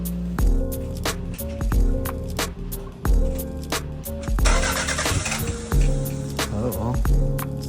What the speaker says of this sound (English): With the new PCM, it actually sounded like it was gonna start.